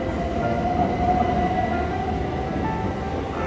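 A fast-moving train gives off a constant low rumble and a faint whine, heard steadily from inside without any breaks, on the way to Gatwick Airport, London.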